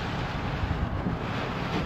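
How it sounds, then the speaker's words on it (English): Wind from Hurricane Michael buffets the microphone at Western Lake near Grayton on Florida's 30A coast, a dense continuous roar with low rumbling gusts, loud and close throughout with no voices. "it's noticeably windy."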